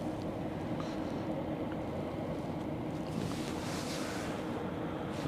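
The 400m container ship CMA CGM Jacques Saade sails past on the Westerschelde in the Netherlands, heard as a steady low rumble of engine and water under constant wind noise, with no voices.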